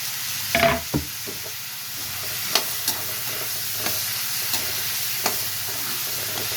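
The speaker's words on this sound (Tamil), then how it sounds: "இப்போ நம்ம தக்காளி கூடவே வந்து வெஜிடபிள்ஸும் சேர்த்துக்கலாம் அதாவது உருளைக்கிழங்கு கத்திரிக்காய்" Tomato, potato and brinjal frying in a pan for a village-style dried fish curry hiss in a steady close sizzle, with a loud clatter early on and scattered spoon taps as the vegetables are stirred.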